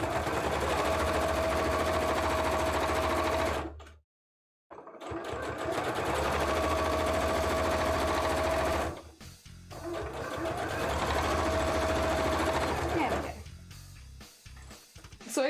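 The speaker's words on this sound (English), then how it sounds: "Sewing machine go brrr, it do be going brrr" A sewing machine runs in steady, loud bursts while mock-ups are made, stopping briefly twice between long continuous stretches of motor whir.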